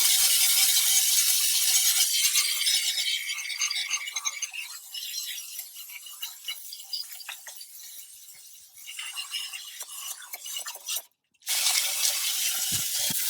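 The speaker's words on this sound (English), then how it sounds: "I also spray the silicone because it'll break down fairly quick when I scrape it off" A can of silicone spray hisses steadily while being aimed at a Dodge Ram gear linkage, a continuous bright spray close by with a few sputters and a short break before it resumes.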